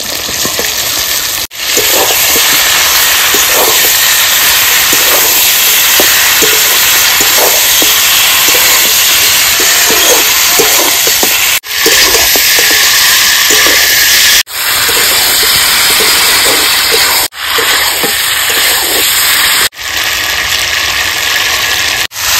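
Boiled mutton hits hot spiced oil in a village kitchen, sizzling loudly and continuously close up, a dense steady hiss broken by a few brief gaps.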